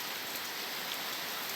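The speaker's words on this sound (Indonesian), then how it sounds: "Hujannya di sebelah sini" Steady rain pours down beside a house where vegetables such as papaya and mustard greens grow in wooden planters, a dense, even hiss of falling drops that holds constant throughout with no voices.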